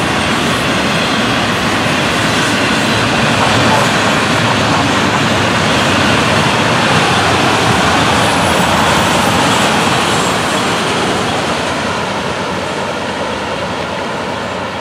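A long freight train with articulated autorack cars rolls past close by in Florida, a loud, steady rumbling roar with faint clickety-clack that holds for the full stretch and eases slightly at the end, with no talking.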